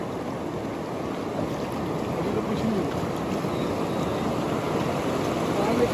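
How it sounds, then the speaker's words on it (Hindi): Steady rushing roar of river water during a rafting trip in Jim Corbett, continuous and close with a broad wash of noise and no distinct breaks. "कितना अच्छा पानी आ रहा है, कितनी तेज आवाज आ रही"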